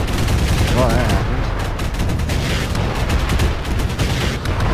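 A dark energy cannon fires over dense, sustained gunfire and explosive bursts in a cooperative strategy battle game, loud and continuous, with a voice briefly heard over the barrage.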